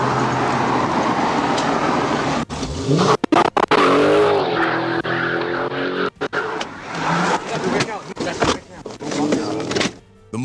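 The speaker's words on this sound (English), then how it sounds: "The engine's growl echoed between overpasses, rattling every window it passed." A muscle car in a police chase roars loudly with a dense, rough engine note and rushing noise that sweeps upward as it accelerates, broken by sharp cuts and dips, with skidding hinted in the turbulent bursts.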